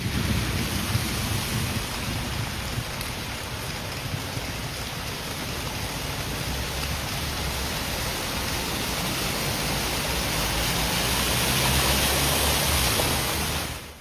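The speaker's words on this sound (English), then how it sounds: "Tak a ide to konečne, je tu nejaký dáždik" Heavy thunderstorm rain during severe flooding storms in Slovakia, a dense, loud, unbroken roar of downpour with a low rumbling undertone swelling slightly toward the end, no talking.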